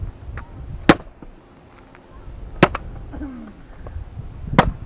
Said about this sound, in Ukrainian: Там хтось стріляє.